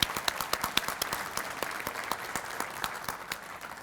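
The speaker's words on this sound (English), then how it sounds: "So please stand and let us give you a round of applause for being here." A breakfast gathering of a Chamber of Commerce, with the audience giving a round of applause: many hands clap at a moderate level, with distinct sharp claps standing out over the steady crowd clapping.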